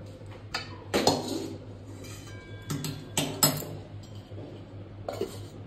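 Metal serving utensils clink and scrape against plates and pots while rice, fish curry and fried fish-roe fritters are dished up, several close, irregular clatters over a low hum.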